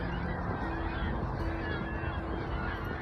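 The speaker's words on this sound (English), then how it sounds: "I feel like all those birds are the witch's minions coming to find me." Geese honking nearby during an outdoor 5K run, several overlapping nasal calls repeating over a steady background of wind and movement noise.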